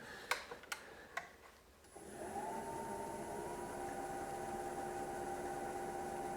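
A wood lathe spins up to a slow speed to turn an Irish ash natural-edge bowl, with a few clicks and taps first, then a steady hum and whine.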